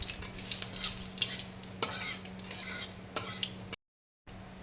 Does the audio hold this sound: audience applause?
no